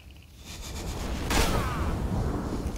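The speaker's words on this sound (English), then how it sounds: "We can suffer a few explosions." Explosions and plasma fire in the video game Massive Chalice, rumbling blasts building into a louder burst with a swooshing sweep midway, then a sustained roar of battle noise, no talk.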